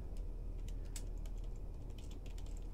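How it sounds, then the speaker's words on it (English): Steady typing on a computer keyboard, a rapid run of light clicking keystrokes close by over a low constant hum. "So if we type in"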